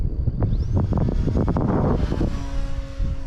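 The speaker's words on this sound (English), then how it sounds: "Those winds are just pushing it." Strong gusty wind of about 20 mph with gusts near 25 buffets the microphone at a flight of an E-flite Turbo Timber Evolution model airplane, a loud rumbling roar with a faint whining motor tone behind it.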